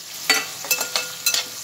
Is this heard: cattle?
no